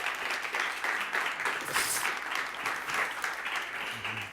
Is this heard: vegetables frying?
no